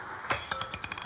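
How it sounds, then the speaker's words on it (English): A drop of hot fudge falls into a glass of cold water in an old radio comedy kitchen scene, giving a quick glassy clink followed by a few fainter ringing taps, close and alone. "drop a drop of it into this glass of cold water, Doc."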